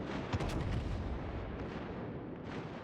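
Warship big-gun salvos in a naval video game: deep, rumbling booms roll out one after another and blur into a sustained low thunder that slowly fades.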